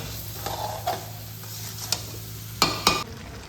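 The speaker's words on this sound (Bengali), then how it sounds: "আমি এবার এই আমগুলোকে কুড়ি পঁচিশ মিনিট সিদ্ধ করে নেব" Mango pieces simmering in melted sugar on low flame for pickle, a faint steady bubbling hiss broken by a few spoon scrapes and sharp clinks against the pot; no talking.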